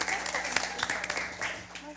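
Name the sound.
audience applause for quiz contestants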